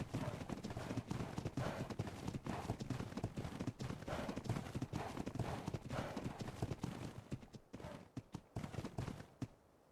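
Horses in a rugged setting walk with steady, fairly close hoof clip-clops, many overlapping beats forming a brisk rhythm that thins and slows toward the end.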